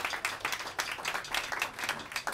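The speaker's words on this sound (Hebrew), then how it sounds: "כפיים לקהל שלנו" Audience applause at a live jazz quartet concert in a small club, a steady wash of many hands clapping at moderate loudness with no voices over it.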